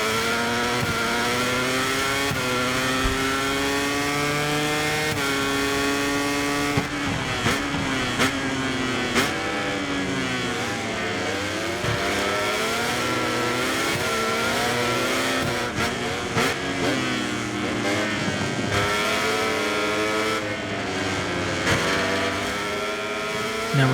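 Honda MotoGP race bike in MotoGP 24 at the Lombok circuit, engine screaming loud and continuous, pitch climbing through gears and dropping under braking into corners, with sharp gear shifts throughout and no talking.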